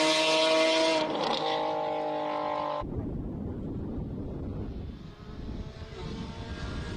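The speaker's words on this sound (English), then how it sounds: "Lexus launching off the start line." A Lexus race car at a hill-climb speed event revs hard and launches off the start line, a loud tonal engine roar that cuts abruptly into a broad, rushing fade as it pulls away, with no talk.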